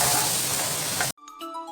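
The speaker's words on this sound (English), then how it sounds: "cha is a sizzling Thai sound when the food lands on a very hot wok" Seafood stir fry with peppercorns, fingerroot and Thai basil hisses loudly in a very hot wok for about a second before cutting out abruptly.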